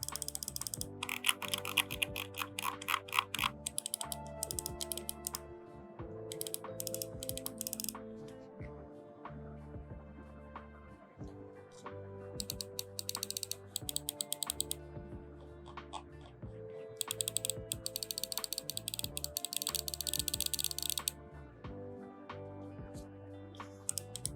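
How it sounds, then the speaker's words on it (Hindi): Portronics Key5 wireless mouse clicking in quick, dense bursts, the sharp taps repeating through the whole stretch over steady background music. "अब माउस के क्लिक का भी साउंड सुन लीजिए।"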